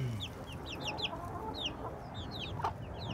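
Young chicks and pullets cheep and cluck softly in a coop, with a flurry of high peeping chirps over low, busy background rustling.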